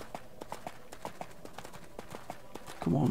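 Horse hooves clip-clop at a steady galloping rhythm in the video game EverQuest II, moderately quiet and even, with a louder low rumble breaking in at the very end.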